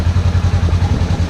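Polaris RZR side-by-side engine idling with a packed, quieted exhaust, a steady low rhythmic putter heard close up with no talk over it.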